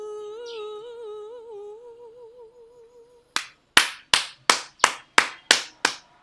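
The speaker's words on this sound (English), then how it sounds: "let's give a hand of applause" A few sharp hand claps, about eight evenly spaced loud claps close by, following a sustained sung melodic tone at a Volkswagen event performance.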